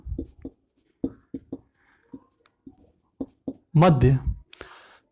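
Marker or chalk writing on a board in a classroom: short scratchy strokes in a broken rhythm, close and clear, with someone speaking in between.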